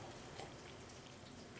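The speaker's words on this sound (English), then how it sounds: "It's raining." Rain falls steadily outside with a soft, even hiss and scattered tiny drop sounds. It is faint and distant, with no voices over it.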